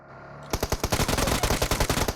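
Automatic gunfire in a PUBG match: a rapid, evenly spaced burst of loud, close shots cracks out after a short quiet lead-in, with no voices.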